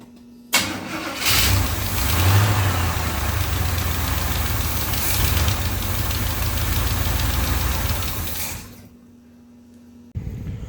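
A 1985 Chevrolet C10's newly installed 350 V8 cranks and catches on its first start, then runs loudly and roughly for several seconds before dropping off, with a brief restart of noise at the end.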